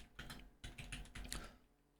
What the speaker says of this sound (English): I'm typing in the raid right now.